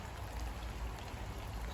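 Steady rain pattering onto a garden wildlife pond on a wet autumn day, a dense continuous wash of drops and splashes with a low rumble underneath, no voices.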